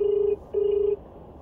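A phone line gives two steady ringback tones, each held for about a third of a second with a short gap between them, loud and alone as a call goes through.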